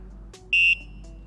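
A $2,000 electric unicycle gives one steady, loud electronic beep of about a quarter second as it powers on, with a quieter click just before it and a faint low hum throughout.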